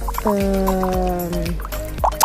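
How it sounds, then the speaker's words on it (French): Vinegar is poured into a glass at close range. A rising, gurgling fill tone climbs over about a second, with small drips and clinks at the end. "j'ai pris un verre et du vinaigre. Donc je remplis mon verre"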